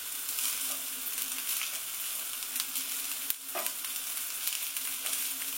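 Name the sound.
food frying and sizzling in a pan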